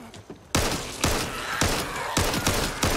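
Loud bursts of gunfire repeating at a steady rhythm, roughly two shots per second, sharp and close with a ringing tail.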